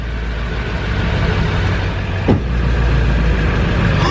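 A freshly overhauled vehicle engine running just after being started, a loud, close, steady rumble with a brief thump midway and no break in the drone.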